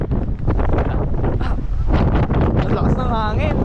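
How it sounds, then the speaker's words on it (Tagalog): Strong wind gusts over a football field, roaring steadily and buffeting the microphone with a deep, continuous rumble while voices talk over it. "ang lakas ng hangin."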